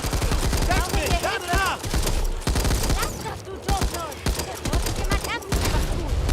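An M249 machine gun firing in the zombie shooter Back 4 Blood, delivering rapid, dense bursts beneath loud, excited talking and a busy, chaotic game mix.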